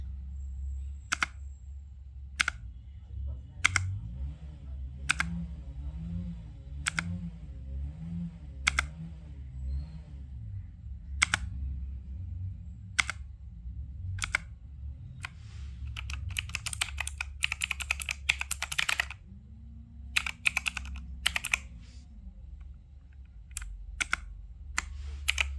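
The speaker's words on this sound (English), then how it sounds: "Clicking sound is also quite satisfying." Blue-switch keys on an Intex Caliber Plus wireless mechanical keyboard click in rapid, irregular bursts of sharp taps that thicken into a fast typing flurry, heard close over a steady low hum.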